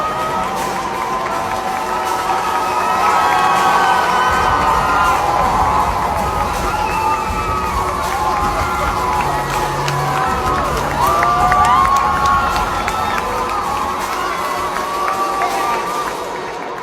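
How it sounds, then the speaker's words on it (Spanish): Crowd of children and teenagers cheering in a spontaneous ovation for a drag queen, a dense sustained roar of shouts and whoops with scattered clapping, loud and continuous throughout. "Miren ustedes lo que es la ovación de los niños,"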